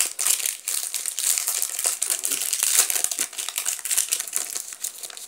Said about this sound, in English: I'm having a hard time ripping